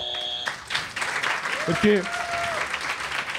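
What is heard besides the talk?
applause sound effect triggered by pressing a button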